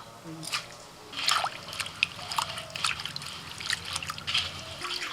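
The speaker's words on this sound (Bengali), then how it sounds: "তাও একটুখানি ধুয়ে নিচ্ছি" Freshly picked coriander leaves being washed in water, soft trickling, splashing and sloshing close by with small squishy handling sounds, and a voice speaking faintly in places.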